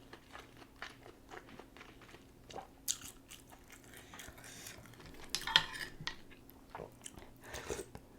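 Biting and chewing a big shrimp from spicy seafood soup, with soft crunchy bites, wet mouth sounds and light clinks of cutlery against dishes, close and quiet.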